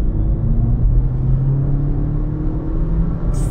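An MG3 Hybrid+ accelerating at full throttle from a standstill, a loud steady engine drone and rumble heard close from inside, pitch rising gradually over a few seconds.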